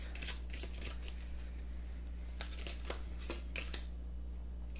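Tarot cards are drawn and handled in quick, crisp bursts of shuffling and sliding, close and fairly quiet over a low steady hum, with no talk.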